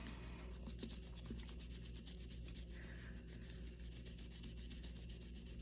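Steady close rubbing as paint is scrubbed off a reborn doll kit, a continuous soft scratchy friction with rhythmic back-and-forth strokes, alone and fairly quiet.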